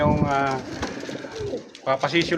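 Pigeons cooing inside a loft, soft repeated coos with a nearby voice talking over part of the clip and a brief flutter or rustle toward the end.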